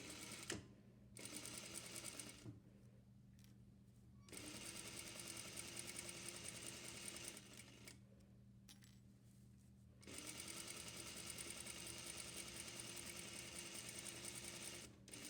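A sewing machine runs in bursts while back stitching a seam on pajama pants, with steady, fast mechanical stitching broken by several short pauses, close up and with no talking.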